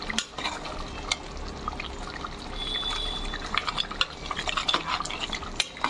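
A goat head curry bubbles and is stirred in a pot, with a steady close simmer broken by repeated clinks and scrapes of a spoon against the metal, with no voices.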